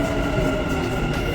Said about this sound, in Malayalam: അതാ വരുന്നത് നമ്മളെ മെട്രോ.